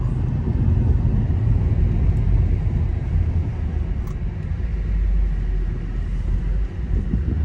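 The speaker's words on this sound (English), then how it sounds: "here comes those speed bumps" Low, steady road rumble from inside a 2009 Mercedes-Benz SL550 on coilover suspension, rolling over speed bumps with a continuous dense drone and no distinct thumps standing out.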